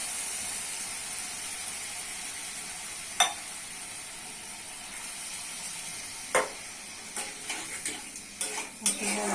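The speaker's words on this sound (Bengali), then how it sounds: "আলু মশলার সঙ্গে ভালো করে কষে কষে রান্না করে দিতে হবে" Red lentils being stirred into spiced potatoes in a pan over a steady sizzle, with a few scattered scrapes and clinks of a spoon that grow more frequent toward the end.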